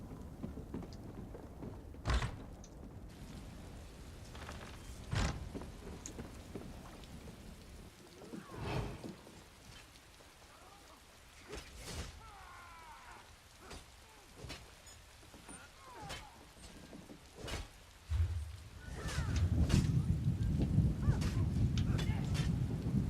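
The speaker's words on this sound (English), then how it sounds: "His thunder is so good that she thought that it was happening in real life." In the online game ESO, a storm brings repeated sharp cracks of thunder every few seconds over a steady patter of rain, with the rain growing heavier and louder near the end.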